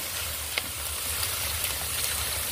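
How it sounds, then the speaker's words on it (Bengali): Water hits a hot pan of dhokar curry with potatoes, giving a steady, fairly close sizzle and bubbling hiss with a few faint clinks, no one talking. "এর মধ্যে আমি জলটা দিয়ে দিলাম।"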